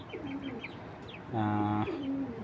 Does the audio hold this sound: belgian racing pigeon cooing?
yes